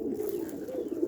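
Pigeons coo close by in a soft, steady run of low throaty calls, heard with no talking.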